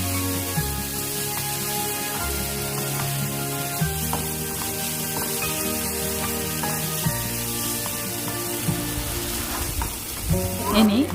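Chicken pieces frying in a pan give a loud, continuous sizzle with stirring scrapes throughout, close and steady with no speech.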